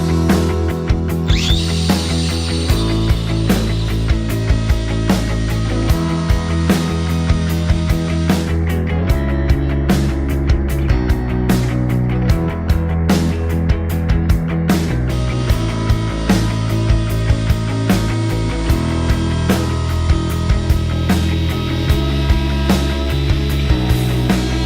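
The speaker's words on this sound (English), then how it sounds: "Just using a little round over bit in my trimming router." A trim router fitted with a small round-over bit cuts along the edge of a wooden table, whining loudly and continuously at close range for the whole stretch with slight shifts in pitch as it moves.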